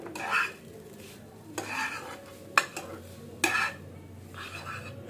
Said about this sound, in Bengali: এখন আমরা সুন্দর করে এটাকে মিক্সার করব